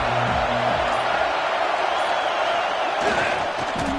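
A college football stadium crowd roars steadily at a distance during a 3rd down defensive stand, a broad continuous wash of noise with no clear voices standing out.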